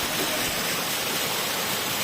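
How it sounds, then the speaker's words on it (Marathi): Constant roaring wash of rushing water from monsoon waterfalls and heavy rain along the Kalsubai mountain trek, dense and unbroken throughout with no voices. "सगळीकडे धबधबे चालू झालेत"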